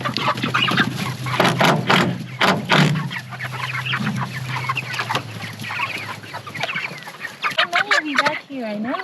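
A flock of roughly five-pound chickens clucking and squawking as they are loaded into a chicken hut, busy overlapping calls near the microphone throughout, with a brief voice and some handling bumps.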